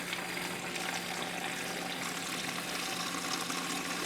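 Water rushes steadily through a Waterdrop spotless car wash system, with air still trapped in the lines, giving a continuous hissing, sputtering flow that stays even and fairly close for the whole stretch.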